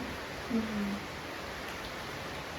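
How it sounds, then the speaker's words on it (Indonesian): Steady rain hisses evenly at night during a journey, with a brief low murmur of a voice early on and otherwise no talk. "inilah kenikmatan hujan"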